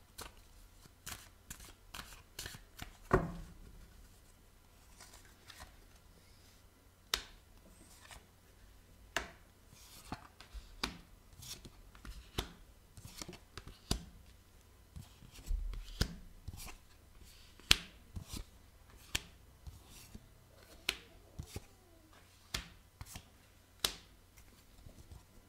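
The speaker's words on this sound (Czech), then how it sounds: "Já si tady budu ještě chvilinku míchat kartičky" Small tarot or oracle cards shuffled by hand for a love reading, a sparse run of crisp flicks and taps with irregular gaps, close and quiet in a still room.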